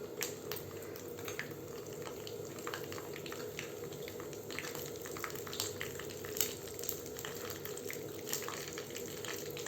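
Cumin seeds crackle in two tablespoons of hot oil for a Maharashtrian veg thali, a steady dense hiss of frying with a constant bubbling texture, close and even throughout with no talking.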